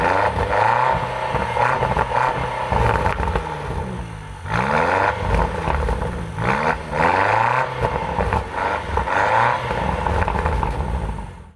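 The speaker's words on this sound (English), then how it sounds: "Back to the exhaust sound." Land Rover Defender OCTA exhaust sounding off in repeated loud bursts, engine revs rising and falling in several swells with brief lulls, heard close and alone without talk.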